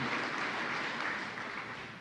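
Audience applause for Mary Jean at the 2023 Junior Achievement Business Hall of Fame gathering, a steady, soft wash of many hands clapping at some distance that fades slightly toward the end.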